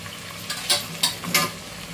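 Onions fry and sizzle in a pan as they brown, with a soft steady crackle and three or four louder bursts of stirring and scraping, no voices.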